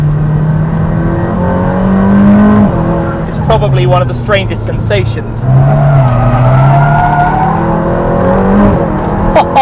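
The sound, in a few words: Aston Martin Valhalla engine accelerating on track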